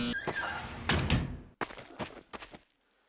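Doors open and close in Garry's Mod, heard as several heavy thunks and slams in quick succession, close and fairly loud, with brief pauses between impacts.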